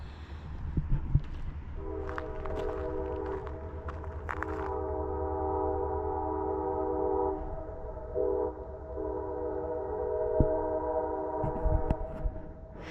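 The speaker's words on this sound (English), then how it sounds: "It's a train that goes across Main Street." A train crossing Main Street in Maine sounds a long sustained horn for most of the stretch, loud and steady, while rumbling rail noise and clattering wheels run underneath and trail off near the end.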